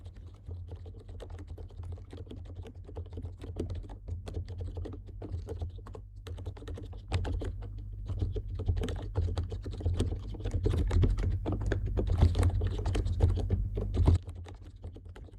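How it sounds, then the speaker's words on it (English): Soft, muffled keystrokes on a quiet mechanical keyboard in quick, irregular bursts over a steady low hum, picking up in pace toward the end. "this might be the most silent keyboard I have ever tested"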